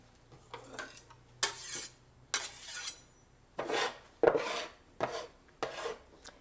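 A knife mincing hot chilies on a cutting board, heard as separate bursts of quick chopping strokes with brief pauses between them, close and fairly quiet, with no talking.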